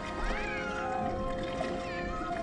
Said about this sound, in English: Would someone shut that cat up?